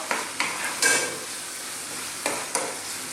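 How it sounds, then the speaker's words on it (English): Fresh curry leaves fry in a hot pan for a beef coconut curry, giving a steady crackling sizzle with several sharper bursts of spitting and stirring scattered through it. "I'm going to go in now with some fresh curry leaves"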